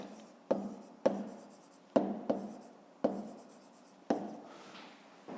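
A pen writing on paper while working a fifth-grade math exercise, with quiet scratching strokes that start with a sharp tap and fade, about six of them spaced a second or so apart, close and alone.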